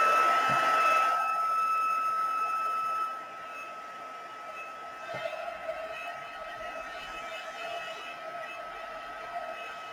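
A hair dryer blows steadily over a watercolour painting, a loud continuous whooshing hum that drops slightly in level after a few seconds and runs on alone.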